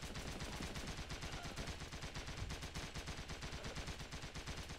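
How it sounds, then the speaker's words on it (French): Heavy machine gun in the Running With Rifles video game fires in long, rapid sustained bursts, dense and loud throughout, with overlapping battlefield shots behind it. "Il y a une mitraillette, une grosse mitraillette."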